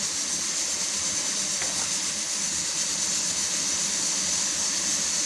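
Onions sautéing in oil for mutton dum biryani, a continuous, fairly loud, even sizzling hiss with no break and no talking.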